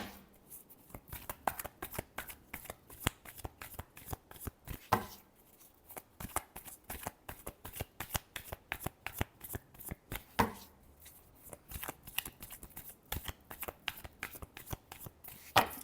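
A deck of tarot cards is shuffled by hand in rapid bursts of crisp riffling and flicking, close and dry, with brief pauses between rounds and no talk.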